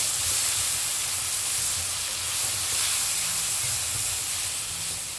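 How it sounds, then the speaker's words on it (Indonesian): Ground spice paste hisses and sizzles in hot oil as it is sautéed for a fern, shrimp and tofu gulai, a close, loud, continuous frying hiss. "Kemudian tumis aja bumbu halus yang tadi."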